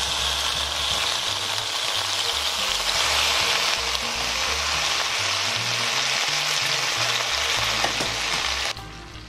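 Cauliflower stir-fries in a hot pan for a vegetarian dish, a steady, loud sizzle with hissing oil and occasional soft scraping, continuous and close until it drops off abruptly near the end.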